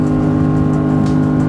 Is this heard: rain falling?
no